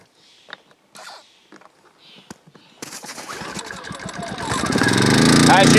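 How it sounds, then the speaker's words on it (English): A Westinghouse WH2200iXLT generator gets several pulls of the starter cord with rattles and clicks, then its engine catches and runs, rising to a loud, steady drone. "this generator should start"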